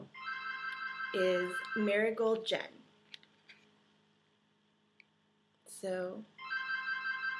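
Mobile phone ringtone ringing in bursts of bright repeated electronic tones, close and loud, pausing in the middle while someone speaks, then starting up again, with a few faint clicks in between.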